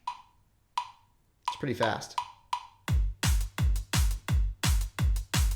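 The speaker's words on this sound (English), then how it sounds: "We have a little drum beat here that we're going to play along with." A backing drum beat at 171 beats per minute for a trumpet tutorial begins with a few clicks and brief speech, then a fast, even run of punchy kick and snare hits.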